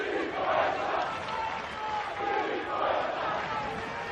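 Football crowd at an NPL NSW elimination final between Marconi Stallions and Sydney United 58, a steady roar of distant chanting and shouting that swells and eases in waves, with no clear single voice.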